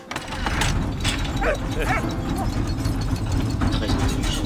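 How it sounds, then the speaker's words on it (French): A dog gives a few quick barks and yips near the listener, with whimpering touches amid mechanical rattling and brief human voices. "Bon chien."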